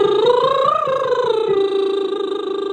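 A voiced lip trill made with the teeth slightly parted behind the lips, a steady fluttering hum that swoops gently in pitch, close and continuous with no talk.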